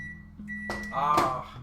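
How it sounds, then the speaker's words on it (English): A microwave oven softening a stick of butter at low power, with a steady electronic whine and low hum, a brief door or latch clunk midway, and a voice speaking over the running machine. "I'm going to go ahead and throw it in the microwave at about 30 power for 10 seconds"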